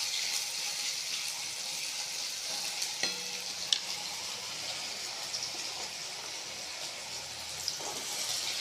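Diced potatoes fry in a pan with bay leaves, giving a steady, even sizzle throughout, with a few soft clinks and stirring sounds partway through.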